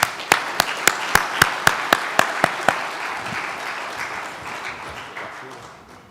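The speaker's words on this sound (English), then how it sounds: "Round of applause, everybody." At a Family Office Club business event, a single person's loud, evenly spaced claps open the applause for founder and CEO Richard Wilson, then give way to a softer, scattered clapping from the room that fades out.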